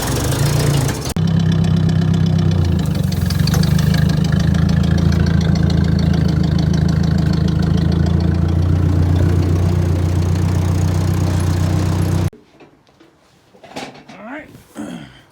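A farm tractor engine idles loud and close with a steady low rumble through most of the clip, then cuts off abruptly near the end, leaving quieter background sounds.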